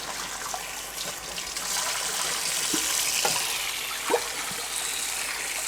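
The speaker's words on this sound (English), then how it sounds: "we're going to give everything a quick rinse again" Water rinsing a rusty, partly seasoned old wok, a steady broadband wash of running water with a few brief splashes and clinks, close and fairly quiet.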